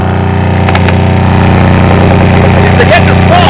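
A truck-mounted salt spreader's engine rumbles loudly and steadily up close, a low throbbing drone with some rattling and clanking over it, while someone talks over it.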